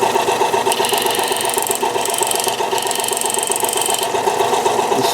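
A 400-grit lapidary wheel grinds a piece of opal, producing a loud, steady mechanical whir with a dense buzzing hum and periodic high-pitched hissy swells where the stone bears on the wheel, continuous and close.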